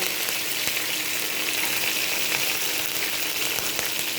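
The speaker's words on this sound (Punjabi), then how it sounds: "ਤੇ ਅਸੀਂ ਹੁਣ ਇਹਦੇ ਵਿੱਚ ਪਾਵਾਂਗੇ ਕੜੀ ਪੱਤਾ" Curry leaves hit hot oil for a besan kadhi with pakoras, giving a steady, loud sizzle and crackle that fills the whole moment without letup, with no voices present.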